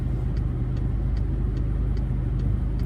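Steady low interior rumble of a Volkswagen Polo with a manual gearbox while driving, a continuous close drone with faint regular ticking, like a turn signal, and no talking.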